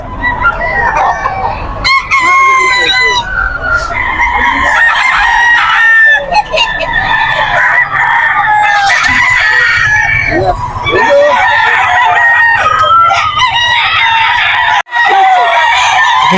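A young rooster (stag) at the Bocaue pet market crows loudly and repeatedly up close, its calls joined by other crowing and clucking fowl in a busy, overlapping chorus with occasional background voices.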